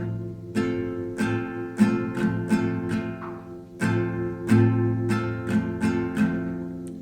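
An acoustic guitar strums chords in a steady down, down, up, up pattern, repeated strokes ringing clearly in a relaxed rhythm, close and unaccompanied by voice.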